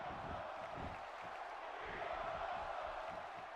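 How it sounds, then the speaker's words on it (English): Wrestling arena crowd in the video game WWE 2K16, a distant rhythmic chant rolling under steady background roar, fairly quiet and continuous. "The crowd are saying we are awesome."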